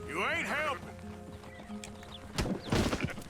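A horse ridden among a flock of sheep in Red Dead Redemption II gives a loud whinny, then its hooves clop unevenly while voices speak nearby.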